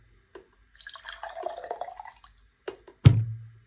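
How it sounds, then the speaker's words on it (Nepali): A person drinks a little water up close, with soft sipping and wet mouth sounds followed by a sharper gulp near the end, and no talk. "सुन पानी खान्छु थोरै,"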